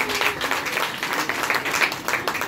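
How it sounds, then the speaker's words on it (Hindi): An audience at a Christian gathering applauds after a scripture reading, with a steady patter of many hands clapping at moderate volume throughout and no clear speech. "जोरदार तालियां बजाएंगे खुदा के कलाम के लिए।"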